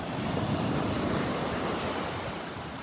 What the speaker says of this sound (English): Those are some pretty good sized waves that are breaking right out there on the sandbar.